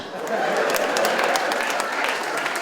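Audience applause at a school debate competition, a steady wash of clapping from a sizable crowd that rises quickly and holds at an even level, with scattered sharper hand claps and faint voices underneath.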